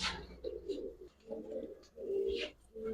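Giribaz pigeons, a Bengali high-flying breed, cooing close by in soft repeated phrases, about three rounded coos with brief pauses, with no talking.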